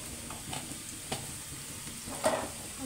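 Onion, chili and garlic sizzle gently in a pan, a steady soft frying hiss broken by a few light stirring scrapes, with no talking.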